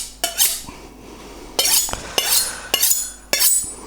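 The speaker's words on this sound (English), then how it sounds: "several strokes on both sides, and this knife, I've had it about 5 years, it does actually need a proper grinding" Knife sharpening on a five-year-old kitchen knife that needs proper grinding: a series of bright, scraping metallic strokes, about five distinct swipes alternating sides, close and fairly loud with no talking.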